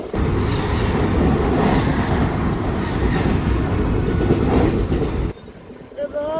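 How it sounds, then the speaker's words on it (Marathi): A suburban train racing at high speed between Ambernath and Badlapur near Mumbai, heard from on board as a loud, continuous rumble and rattle that drops off sharply near the end. "आपली ट्रेन खूप जास्त स्पीडमध्ये"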